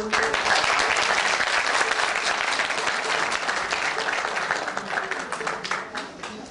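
Audience applause after a Turkish singer's concert performance: dense, steady clapping from a large crowd fills the whole stretch, loud and continuous, easing slightly toward the end, with a faint voice mixed in.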